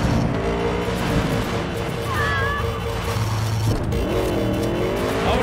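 Police car chase in Cyberpunk 2077, with loud roaring engines, squealing tires and rising and falling sirens over steady driving noise, the game sounds dense and close throughout.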